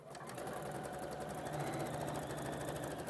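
A sewing machine runs steadily as it stitches the centre back seam of a garment, with 1 cm seam allowance and backstitching at each end; a close, continuous mechanical hum and rapid needle rattle with no pauses, no talking.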